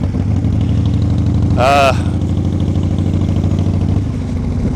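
A fully rebuilt motorcycle idles nearby with a loud, steady low engine rumble throughout, briefly joined by a sharp whining sound partway through.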